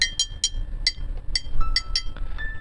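A drinking glass is struck again and again, giving about nine bright, ringing clinks in an uneven rhythm. Each clink sounds close and clear, with a short tonal decay, over a low background rumble.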